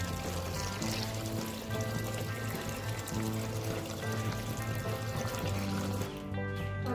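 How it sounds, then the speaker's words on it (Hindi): Tap water pours steadily into a pot of cooked macaroni, a continuous, moderately loud trickling stream lasting several seconds under a steady background hum, with no talk. "और अपने इसके साथ नॉर्मल टैप वाटर डाल लें"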